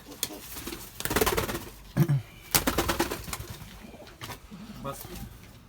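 Pigeons coo in soft, throaty bursts close by, with wing flutters and rustling, while people talk in the background.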